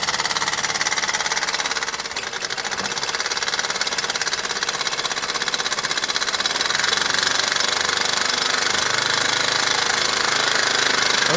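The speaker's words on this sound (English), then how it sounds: "you can see just how high the RPM goes" A 1972 Mamod SR1a model steam roller runs at high speed, giving a continuous fast mechanical chatter and rapid knocking buzz, steady and close, with no voices.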